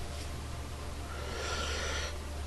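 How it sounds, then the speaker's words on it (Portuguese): A deep breath drawn in during a guided breathing exercise, a soft airy inhale swelling over about a second against a steady low hum, close and fairly quiet. "Inspira, inspira,"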